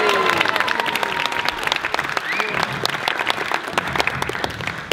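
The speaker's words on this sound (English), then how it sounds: "Give him another round of applause, please." A wedding reception audience applauds after a speech, with dense, steady clapping and a murmuring crowd sustained for the full five seconds.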